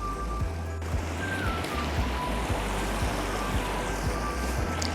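Continuous rushing of a river beside Little Hound Tor on Dartmoor, a broad, steady wash of flowing water close by with a few faint knocks underneath and no talking.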